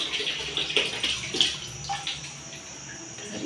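Water is poured and splashed across a bathroom floor during cleaning, giving a soft, uneven wash of sound with small splashes that fade toward the end.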